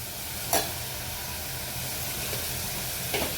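Tomatoes with a pinch of salt sauté in a pan for a spicy veg pulao, giving a steady low sizzle with two brief louder scrapes of stirring, close and alone.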